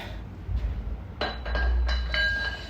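A steel roll cage tube set into a greased tube bender die with a few sharp metallic clinks and rings, close and clear, with no talk.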